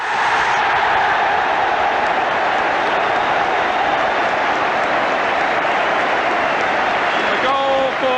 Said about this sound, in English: A goal for one of the unsung heroes at Old Trafford. And the crowd respond.